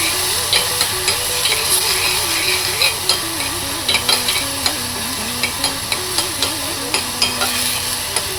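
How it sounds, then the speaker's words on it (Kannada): Onions fry in oil in a pan on a medium flame with a continuous sizzle, while a spoon scrapes and stirs in regular, sharp strokes throughout. "ಎಣ್ಣೆ ಬಿಟ್ಕೊಳ್ಳೋವರೆಗೂ ಚೆನ್ನಾಗಿ ಈರುಳ್ಳಿನ ಹುರ್ಕೋಬೇಕು"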